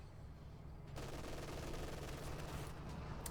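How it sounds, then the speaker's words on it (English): Sustained machine gun fire from Grenadiers in Company of Heroes 2, a steady dense rattle that swells in loudness after the first second and continues unbroken, moderately distant in a battlefield mix. "Grenadiers hosing out there with machine guns"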